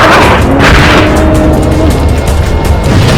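Loud, sustained rumbling boom of a missile blast throwing up a water splash at sea, a dense roar filling the whole stretch without a break.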